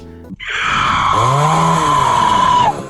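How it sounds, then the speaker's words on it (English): The death screech of the Mall bot in the Roblox game Piggy is a loud, harsh, sustained electronic wail with a groaning lower layer sliding in partway, held for about two seconds before cutting off abruptly. "Every time you die you have to hear that horrendous screeching."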